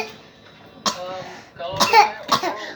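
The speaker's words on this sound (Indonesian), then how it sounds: "itu batuk." A person eating with a younger sibling coughs in a few sharp, close bursts with throat clearing between them, mixed with brief vocal sounds.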